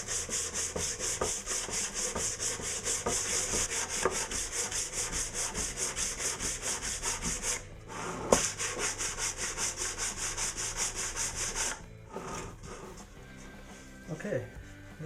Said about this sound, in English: I take a piece of wood, wrap some 60 grit sandpaper around it,